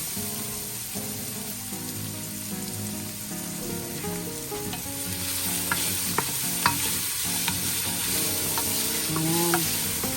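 Garlic and onion fry and are stirred in a pan for Filipino creamy sopas. A steady sizzle with scraping stir strokes and occasional light clinks sits under background music.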